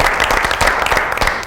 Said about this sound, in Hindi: बहुत सारी तालियों में डाकिया साहब जी